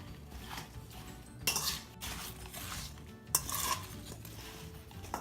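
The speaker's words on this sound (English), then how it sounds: "So a little bit of lemon juice. And we'll mix it up." Apples being mixed with lemon juice and cinnamon in a bowl, giving soft scraping and stirring with a few sharper clinks of a utensil against the bowl, near and fairly quiet.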